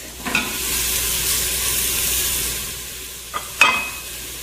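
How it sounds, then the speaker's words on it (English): Onions and carrots sizzle in a hot Instant Pot on saute, a steady broadband frying hiss throughout with a few sharp clacks of stirring near the start and end. "You can hear it sizzling."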